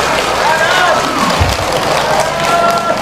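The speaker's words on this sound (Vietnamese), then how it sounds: "các con vỗ tay một lần nữa thật lớn cho chú Kim Long" A crowd of children applauds loudly at an outdoor charity event in Mỏ Cày Nam, Bến Tre, steady dense clapping with some cheering, while an adult voice talks over it.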